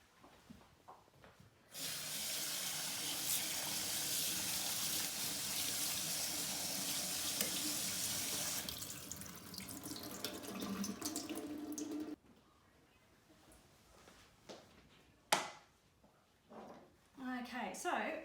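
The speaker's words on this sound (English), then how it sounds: "I'm just going to pop to the sink and give these a rinse" Kitchen tap water runs steadily into a sink while fresh basil leaves are rinsed, a loud continuous gush lasting about ten seconds before it stops, followed by quieter handling sounds and brief splashes.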